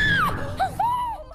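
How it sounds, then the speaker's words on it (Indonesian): A woman in a film screams hysterically, a loud, high wavering shriek that breaks into shorter rising and falling cries. "langsung berteriak histeris"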